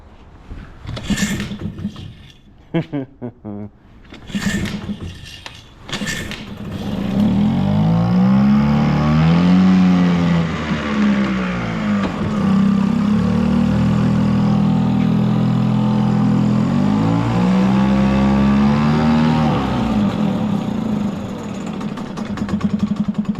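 A Mercury outboard motor dunked in water for a test before freeze-up, idling low with a steady close rumbling drone after a few short sputtering bursts as it starts.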